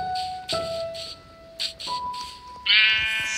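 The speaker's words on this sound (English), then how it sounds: "Sheep." Sheep in the Minecraft video game bleating several times in short wavering calls, close and clear, with game sound effects between them and no talking.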